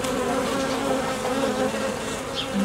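Honeybees buzz steadily inside an opened hive, a dense continuous drone with no talking over it.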